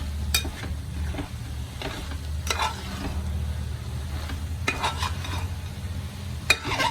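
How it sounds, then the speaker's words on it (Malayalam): Garlic chicken being stirred and mixed in a pan with its ground spice paste, with a steady low sizzle under repeated scraping strokes of a spoon against the pan, close and fairly loud, with no talking. "നന്നായിട്ട് ഇറക്കി യോജിപ്പിക്കാം"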